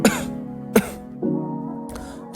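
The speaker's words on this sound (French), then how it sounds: "j'ai un peu la toux" A voice coughs and clears his throat in a few sharp, close bursts spread across a couple of seconds, with nothing else around them.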